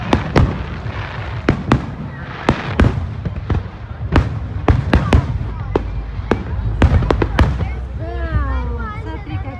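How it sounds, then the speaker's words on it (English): Fireworks bursting over Hawaii near boats at sea, a rapid run of sharp cracks and booms at middle distance, with people chatting and exclaiming throughout. "And the golden fireworks up in the air."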